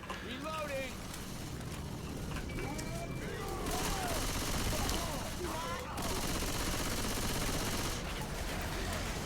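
Bursts of rapid Uzi submachine-gun fire in the Left 4 Dead 2 zombie game, with repeated automatic volleys over a dense din of gunfire and chaotic effects inside a burning building.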